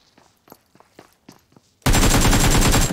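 Sustained rapid gunfire from an AUG rifle in PUBG Mobile bursts in suddenly and loudly after a stretch of quiet, scattered footsteps, continuing without pause to the end.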